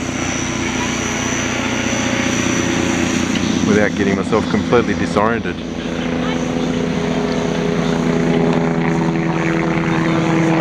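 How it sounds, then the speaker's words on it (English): A police helicopter drones steadily overhead with a deep, pulsing rotor hum while a person talks briefly over it. "Got a real helicopter buzzing up there somewhere."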